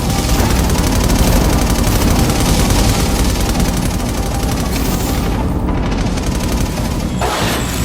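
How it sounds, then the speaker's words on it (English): Automatic turrets firing in the Infamous: Second Son video game, with a dense, loud, continuous roar of rapid gunfire and blasts that never lets up through the whole stretch. "This is gonna be awesome! Automatic turrets!"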